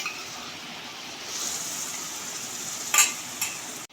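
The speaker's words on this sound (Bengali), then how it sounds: "এবার এটা একটু ভেজে নেব।" Onion fries with ginger, chili and garlic paste in a pan for a dhaba-style chicken bharta, giving a close, steady sizzle broken by brief stirring scrapes near the end.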